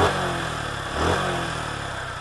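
An air-cooled single-cylinder 150cc Suzuki Gixxer 150SF motorcycle engine runs steadily and loudly throughout, with a slight swell in revs midway, close and continuous.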